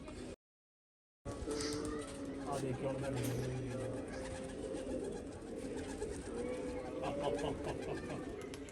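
Soft, low pigeon coos sound briefly amid a busy outdoor background of chatter and general noise.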